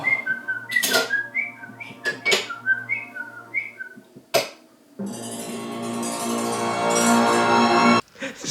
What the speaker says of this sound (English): I'll just whistle a happy tune.